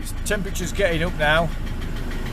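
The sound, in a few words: Ford Transit MK7 2.4 RWD diesel engine knocking while running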